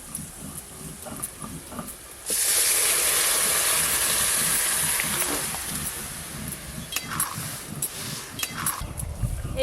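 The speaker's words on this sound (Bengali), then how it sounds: "এবার ডালটা ছকে দেব।" Bottle gourd dal pours into hot tempered oil with fried onion, chilli and five-spice, setting off a sudden loud, steady hiss that fades slowly over several seconds before lighter bubbling takes over.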